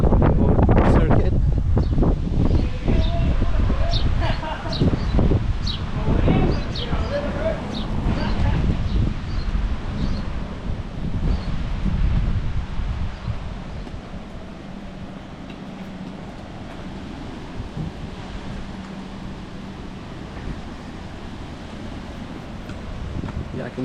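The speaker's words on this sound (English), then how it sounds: "you can tell that it's quite windy from the trees moving and the water moving up front" Steady wind roars and buffets the microphone in Puerto Natales, Chile, with rustling and some brief sharper sounds early on, easing slightly toward the end.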